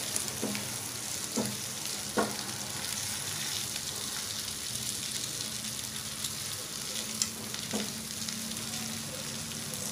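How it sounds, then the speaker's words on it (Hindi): Boiled potatoes sizzle steadily as they fry in a pan for a simple dry South Indian-style sabji, with occasional scrapes and knocks of a spoon stirring them. "इसे अच्छी तरह से स्टर करिए आलू को अच्छी तरह से मिक्स कर लीजिएगा"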